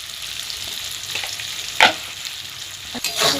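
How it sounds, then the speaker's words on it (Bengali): Onions fry in a pan for a katla fish curry, a soft steady sizzle broken by a few sharp spatula scrapes and stirs, close and alone without speech. "পেঁয়াজটা ভাজবো"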